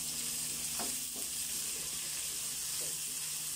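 Onions sautéing in a hot pan for beef kare-kare, a steady close sizzle with a few soft stirring scrapes and no talk.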